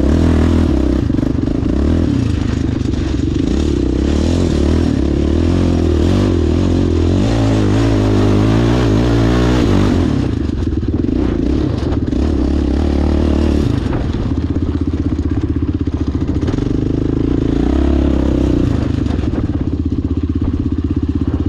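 A motorcycle engine revs loudly and continuously nearby during steep hill-climb riding, rising and falling in pitch, with clattering and scraping mixed in.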